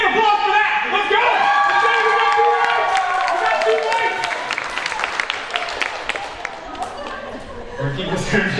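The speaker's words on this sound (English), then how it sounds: "Big applause for that!" Crowd at a Baker Creek seed expo breaks into loud applause, with whoops and voices at first, then a steady wash of clapping that dips slightly before swelling again.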